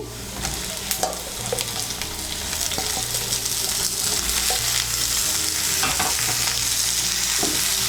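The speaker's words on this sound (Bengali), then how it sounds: "ঝিঙেটাকে মিশিয়ে নেব, তেলের সঙ্গে মিশিয়ে নিয়ে ঝিঙেটাকে একটু ভেজে নেব।" Sliced ridge gourd frying with onions in hot oil, a steady loud sizzle throughout with intermittent scraping stirs of a spatula in the pan.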